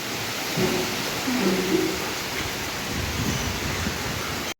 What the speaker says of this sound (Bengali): দেখো কি জোরে বৃষ্টি এসছে আজকে, উঠোন পুরো ভরে গেছে